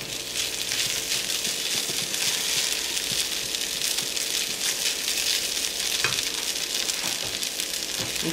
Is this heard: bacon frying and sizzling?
yes